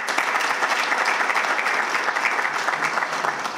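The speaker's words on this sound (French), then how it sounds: "Nous pouvons l'applaudir, s'il vous plaît." Audience at an aeronautics conference in Morocco applauds steadily, a dense even wash of many hands clapping close by for several seconds with no voices on top.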